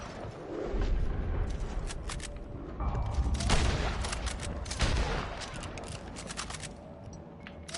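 Gunfire in Red Dead Online, a rapid volley of sharp shots and booms clustered in bursts, loud and close, fading toward the end.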